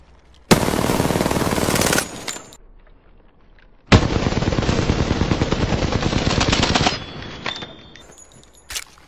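Automatic gunfire in the game Apex Legends: two long sustained bursts of rapid shots, loud and close, each followed by brief mechanical reload clicks, with a quiet gap between bursts.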